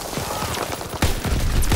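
Gunfire in a WW2 shooter, a rapid fusillade of close, loud shots in quick succession, with a heavier burst midway and continuing fire over dense background noise.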